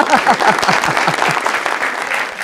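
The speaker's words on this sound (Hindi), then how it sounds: "ये खवातीन तालियां बजा रही है" Women in an audience clap at a comedic poetry gathering, a dense, steady patter of hands close by with a few sharper individual claps standing out, no voices over it.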